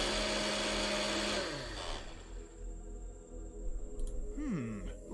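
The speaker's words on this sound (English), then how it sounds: "A blender?" A blender whirs loudly in a farm-themed video game, a dense high whine that winds down and cuts off after about a second and a half, followed by quieter scattered game sounds and a short rising-falling electronic warble.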